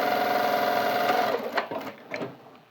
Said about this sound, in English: You need to sew only in the black fabric. So you can sew reading the edge